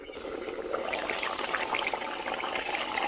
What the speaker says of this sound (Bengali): বেশ অনেকক্ষণ ধরে কিন্তু আমি ঝোল তরকারিটা ফোটাচ্ছি